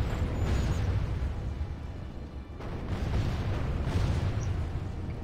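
Catapults bombarding a castle gate in Medieval II Total War, heavy booming impacts and rumbling crashes layered in a continuous loud battle din, with a few sharper hits standing out.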